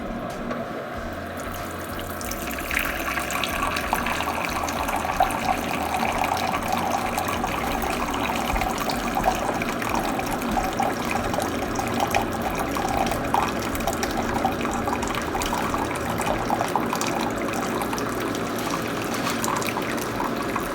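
Water flushes steadily through a Keurig coffee maker during descaling, a continuous loud rushing and trickling stream that runs without a break and with no talk over it.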